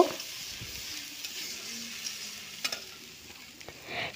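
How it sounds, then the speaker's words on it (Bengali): Onion paste sizzles and is stirred in a kadai over a wood-fired stove, a continuous gentle frying hiss with occasional soft scrapes and small pops, close and without speech. "ভালো করে নেড়ে চেড়ে নিচ্ছি"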